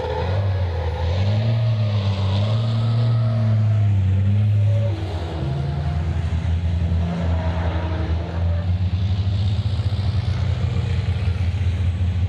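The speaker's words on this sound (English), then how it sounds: "For those of you that have never seen a truck drift, that is how it's done." Heavy racing trucks drifting on a track produce a loud, continuous engine drone that shifts pitch as they rev and ease off, with a dense roar throughout.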